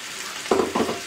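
Fresh sardines, well washed, frying in a hot pan give off two short bursts of sizzling and stirring, close by, against a quiet kitchen background.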